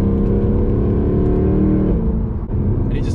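Mercedes W204 C63 AMG in Sport Plus mode revs hard, a loud deep engine roar rising and holding, then briefly dipping as the throttle shifts, heard close with no talk.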